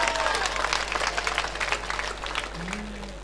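Listeners at an all-India Hindi poetry gathering (kavi sammelan) clap together in a brisk burst of applause, moderately loud with scattered individual claps, tapering off under a low steady hum with a brief voice near the end.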